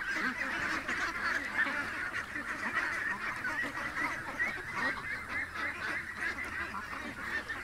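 Ducks and geese being fed at a pond make a dense, continuous chorus of honking and quacking, fairly close and steady throughout with no talk over it.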